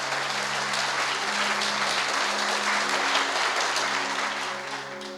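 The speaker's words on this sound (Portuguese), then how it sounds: "Aplauda Ele." A church congregation applauds together, a dense, steady roar of clapping close and loud that tapers slightly at the end, with faint musical tones underneath.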